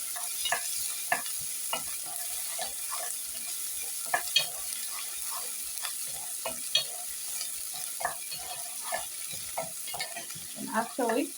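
Onions cooking in a pot with a faint sizzle and a string of quick ladle stirs and clinks, close and irregular, with no talking.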